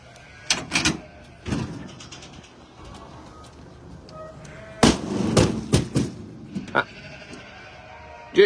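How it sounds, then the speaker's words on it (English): On a farm, the rear door of a livestock trailer carrying lambs is lowered with a series of loud metallic clanks and bangs, while lambs bleat intermittently nearby. "Right, so we'll put this door down."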